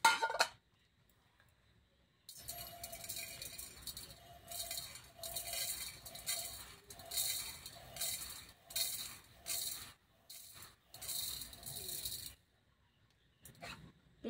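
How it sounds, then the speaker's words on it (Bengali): Dry sago pearls pour into a medium-sized measuring cup in a light, faint, rattling patter. The trickle comes in uneven bursts with short pauses between them, close by and with no talk over it. "কাপের মধ্যে ঢেলে দিচ্ছি।"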